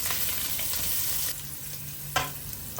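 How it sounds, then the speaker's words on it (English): Cloves and star anise fry in oil in a pan for braised pork belly, giving a steady, close sizzle broken by a couple of sharper crackles and a stirring scrape. "Fry until fragrant."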